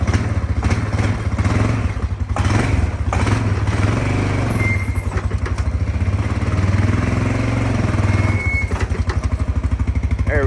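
A four-wheeler ATV's engine runs in drive close by, a loud, steady, pulsing mid-pitched drone that continues without a break for about ten seconds while it pulls on a chain.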